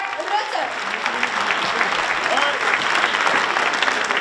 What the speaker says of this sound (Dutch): een groot applaus voor onze minister-president Mark Rutte